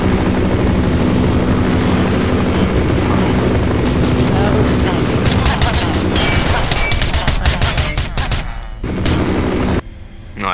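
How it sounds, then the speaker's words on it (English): A helicopter in the Minecraft Scape and Run Parasites game, its steady rotor drone overlaid by loud rapid bursts of automatic gunfire that build and then cut out near the end. "What is it called? The chopper."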